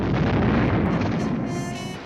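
Cannon fire booms in a single heavy, loud blast whose low rumble fades away over about two seconds, with no talking.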